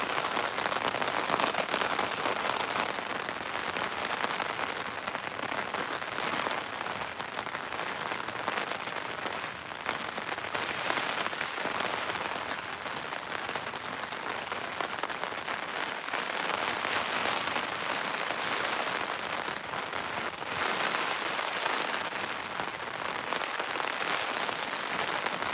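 Steady heavy rain drums down beside a river fishing spot on the Norfolk Broads, a continuous broadband hiss of drops on water and gear that stays loud and even from start to finish, with no talk.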